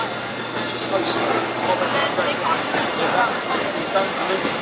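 Hawker Sea Fury piston-engined fighter performing a flying display at the Farnborough Airshow, its steady broad engine roar filling the air at a distance with crowd noise around it.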